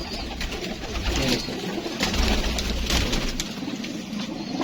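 Pigeons kept on a Karachi rooftop coo continuously and close by, a dense layered murmur of several birds with faint background noise.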